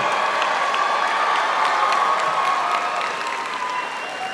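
A graduation audience at Alliance Academy gives sustained applause to graduates' supporters, a steady, even wash of many hands clapping with faint crowd noise underneath.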